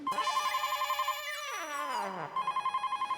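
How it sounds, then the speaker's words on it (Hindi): An electronic phone ring trills in fast pulsing bursts, interrupted by a long falling wail like a meow, then the ringing resumes, close and steady. "अंदर फोन की घंटी बज रही है"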